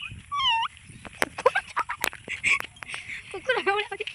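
A village dog gives a couple of short whimpering yelps, with rising and falling whines near the start and end, while people talk loosely around it in a comic rural stage play from Odisha.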